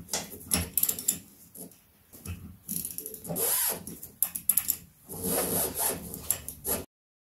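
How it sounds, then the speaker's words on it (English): A 21mm ratcheting spanner works the top nut of a Trafic van's front shock absorber, giving bursts of close, rapid ratchet clicking separated by short pauses. "I'm going to use a little ratchet to hold it in place, and this is a 21mm ratcheting spanner"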